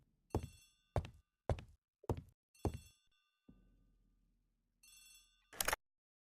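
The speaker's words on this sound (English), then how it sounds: "The telephone in the hall is ringing." A telephone in a hall rings in five sharp, bell-like bursts at an even pace, then falls quiet before a dull clunk and one more loud ring near the end.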